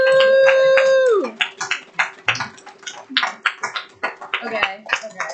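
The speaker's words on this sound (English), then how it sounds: "Round of applause." A small audience claps and whoops for sponsors at a class session, starting after a sustained whistle-like tone fades; irregular sharp claps and cheers continue for several seconds at moderate loudness.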